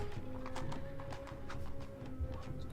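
Light cavalry hooves in the Rise of Nations strategy game make a soft, continuous clip-clop patter, with a faint whinny under a steady background game ambience.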